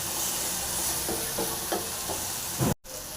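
Goat brain masala frying in a pan: a steady broadband sizzle with a few soft scraping stirs, close and continuous, cutting out abruptly near the end.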